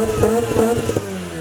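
A rotary-engined car revs in quick, choppy bursts, a loud close buzzing brap that rises and falls several times before settling to a rough idle.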